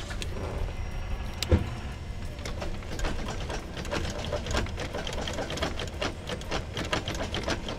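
A car engine running on denatured alcohol fuel, with a steady, rapid mechanical clatter throughout and a brief louder knock near the start, close and fairly loud with no talking.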